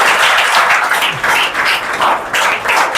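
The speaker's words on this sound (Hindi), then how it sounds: "जोरदार तालियां होनी चाहिए रवि जी सर के।" A crowd of students applauds loudly at a school results celebration, with many hands clapping in energetic bursts that swell and dip in close succession.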